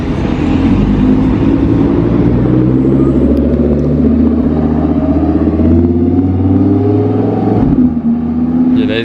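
An Audi RS6 and an Audi R8 drive past on a Monaco street, their engines giving a continuous loud low rumble that builds and holds before easing near the end.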